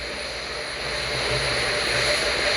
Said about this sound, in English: The rocket is on its own.